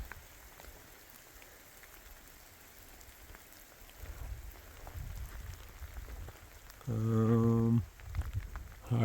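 Rain falls steadily during a night storm on a trail, a soft close hiss of drops that swells louder partway through, with a brief low hum near the end.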